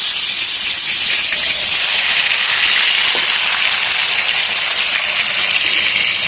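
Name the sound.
vegetables for shukto dropped into hot oil and frying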